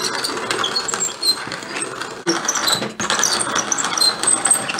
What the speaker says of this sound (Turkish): güzelce değirmenden geçiriyorum bunları